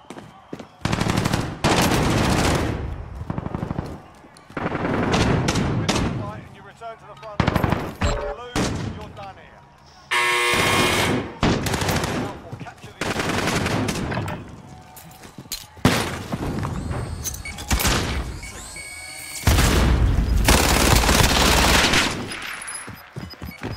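Rapid automatic gunfire and single shots in Call of Duty: Warzone (Modern Warfare) crackle in loud repeated bursts throughout, with a player talking between and over the volleys.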